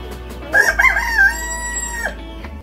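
A Rhode Island Red rooster on a free-range chicken farm crows once, loud and close, a long drawn-out call over a low steady hum.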